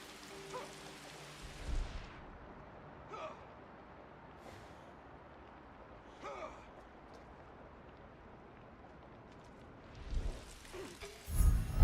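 Steady rain falls in the video game Assassin's Creed Shadows, a soft continuous hiss throughout with a few brief louder swells and bumps, with a voice heard faintly near the end.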